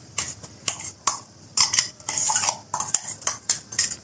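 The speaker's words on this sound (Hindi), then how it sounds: "अब ये सारे इमली और मिर्च जो हम पीसे उसको अच्छे से मिक्स कर लेंगे हम" A spoon scrapes and clinks against a bowl while mixing ground red chili and raw tamarind pickle, in repeated close, irregular strokes with short pauses between them.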